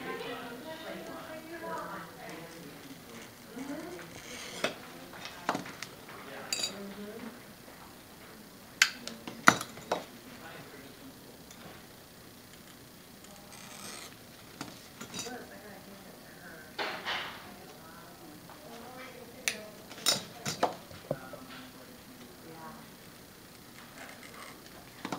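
Scored glass pieces snapping off a cut glass circle, heard as scattered sharp clicks and clinks spread through the stretch beneath steady talk.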